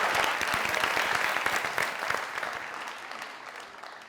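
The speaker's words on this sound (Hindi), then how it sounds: "जोरदार तालियां।" A studio audience at a comedy talk show claps loudly and steadily, a dense burst of applause that slowly tapers toward the end.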